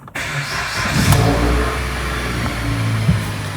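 A car engine fitted with a new aftermarket catalytic converter to fix a P0420 code cranks and catches, then runs loud and steady with a couple of revs rising over the idle.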